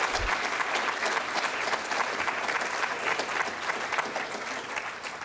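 Steady audience applause closing a CARTA symposium on how language evolves, many hands clapping in an even, moderately quiet wash heard from some distance, continuing without speech.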